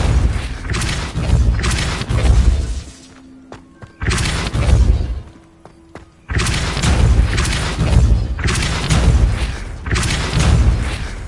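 Depulso spell blasts in Hogwarts Legacy on PS5, a series of loud booming impacts in repeated bursts separated by short quieter gaps with faint tones.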